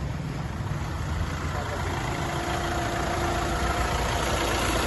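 A 2018 Hyundai i20 Sports with 67,000 km on it idles with a steady, even engine hum close by, holding a constant pitch with no revving.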